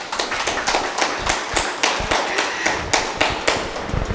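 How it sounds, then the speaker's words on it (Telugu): Audience applause at a talk on cooking in a spiritual center's kitchen, heard as a rhythmic burst of sharp, fairly loud claps repeating steadily throughout, with no voices over it. "తనకు ఒకసారి గట్టి క్లాప్ చేద్దాము."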